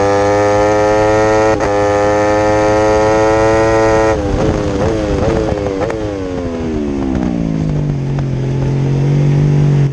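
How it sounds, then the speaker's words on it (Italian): A racing motorcycle at Autodrom Most, loud engine with strong harmonic tones up front, then a shift to a rising, wavering high-pitched squeal as the tyre grips under hard braking, ending in a steady lower drone. "Sentite come stride la gomma?"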